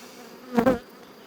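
A single honeybee buzzes loudly past at an open beehive, a brief close whine that swells and fades within about a second over a faint background hum.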